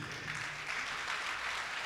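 A church congregation applauding, a faint, steady wash of clapping from many hands at a distance.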